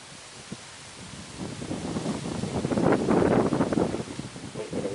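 Outdoor wind buffeting the microphone, a low rumbling roar that swells through the middle and stays loud, with gusty flutter and no talking.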